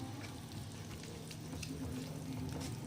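Okra and onions sauté in a pan with a steady, continuous sizzle and frying crackle, close and moderately loud, with faint stirring and no voices.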